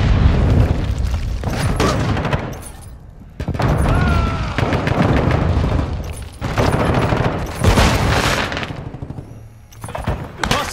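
Decoy dummy grenade in a military video game imitating gunfire, loud bursts of fake shots and booms that come in clusters with short pauses, mixed with other battle effects.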